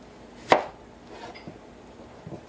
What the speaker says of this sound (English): Slice this sideways.